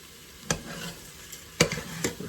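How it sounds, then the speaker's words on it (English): Tomato rice frying in a pan gives a soft sizzle, broken by three sharp scraping stirs of the spoon against the pan bottom. "Just let that fry for a few minutes, but you must remember to keep turning it"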